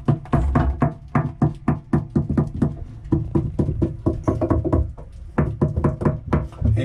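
A screwdriver taps hard against a sailboat's structure in a tap test for hollow spots, giving a long run of sharp, close knocks in uneven bursts and clusters with short pauses between.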